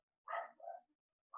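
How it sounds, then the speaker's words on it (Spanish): A dog barks indoors, two quick barks close together followed after a pause by a third, fairly faint with no talking over them. "seguramente ustedes escuchan un ladrido"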